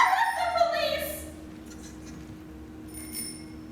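A telephone rings as a stage sound effect during a community playhouse Broadway revue, a bright, trilling ring bursting loud at the start and then fading into a quieter stage hush.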